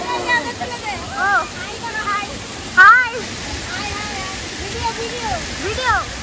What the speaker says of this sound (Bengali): জল পড়া হয়েছে, জল পড়ছে, মাথা ঠান্ডা, প্রচুর রকমের এখানে জল পড়া রয়েছে সব চারিদিকে